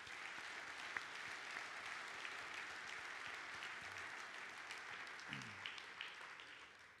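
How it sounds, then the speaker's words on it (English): Audience applause at a wealth management conference, a steady wash of clapping from a large crowd that holds evenly for several seconds, moderately distant and fairly quiet. "Please give a round of applause for our premier sponsors."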